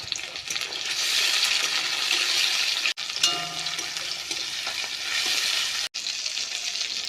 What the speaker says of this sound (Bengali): পেঁয়াজটা একটু ভাজা হয়ে গেলে দিয়ে দিব টমেটো কুচি